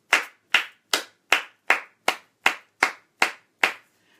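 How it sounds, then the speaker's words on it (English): Ten sharp hand claps in a steady, even rhythm, close and crisp, with no talking. "Clap for yourself 10 times."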